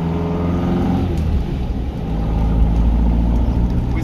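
A 1986 Volkswagen Beetle's naturally aspirated 2.1 engine revs with a deep, throaty rumble through a 4-into-1 exhaust, loud and close, rising and holding steady.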